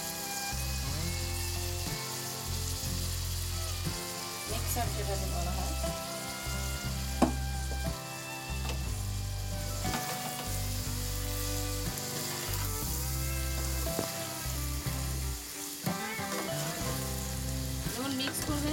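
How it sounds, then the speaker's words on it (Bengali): Soaked basmati rice is stirred into frying vegetables in a large pan for chicken and prawn fried rice, giving a continuous dense sizzle with intermittent stirring scrapes throughout. "এই রাইসটা এবার আস্তে আস্তে এর মধ্যে দিয়ে দেবো আর নাড়বো।"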